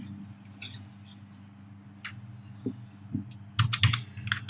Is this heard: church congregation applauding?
no